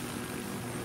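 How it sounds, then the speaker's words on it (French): A helicopter in Battlefield 3 gives a steady, close rotor and engine drone, a continuous low thrumming roar that holds even throughout, with no talk over it. "Est-ce que tu crois que je peux passer avec l'hélico dans le tunnel?"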